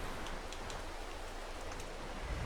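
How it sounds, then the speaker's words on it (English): Steady rain falls in the video game Farming Simulator 22, a soft, even hiss of drops with no pauses, faint and continuous. "How long are we going to have the rain here for?"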